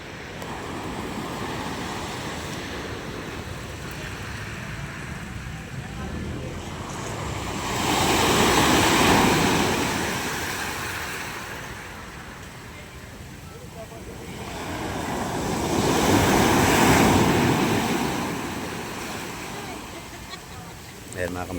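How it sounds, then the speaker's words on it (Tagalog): Big waves surge and crash at a fish terminal in Julugan, Tanza, Cavite, in two slow swells, each building to a loud rush and receding, with wind noise and a voice talking over it. "Laki ng alon, oh. Grabe, oh."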